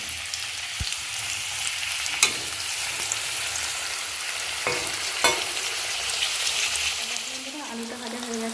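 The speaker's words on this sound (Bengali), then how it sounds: "আলুটা ভাজা হয়ে গেছে, আলুটা ভেজে তুলে নিচ্ছি লাল লাল করে" Potatoes and plantain frying in a pan make a steady, close sizzle with crackling oil, a few sharp clicks and stirring scrapes, and a soft tonal hum near the end; no one talks.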